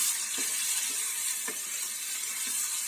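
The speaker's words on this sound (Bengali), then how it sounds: "এখন আমি এর ভেতরে সিদ্ধ করা জলপাইগুলো ঢেলে দেবো" Boiled olives frying in hot oil with browned garlic, a steady close hiss of sizzling with a few soft stirring knocks.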